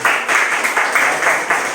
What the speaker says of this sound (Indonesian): Berikan tepuk tangan untuk mereka dulu